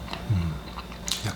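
Someone biting and chewing corn on the cob as a dessert after a meal, with a couple of short, close crunchy bites and soft mouth sounds.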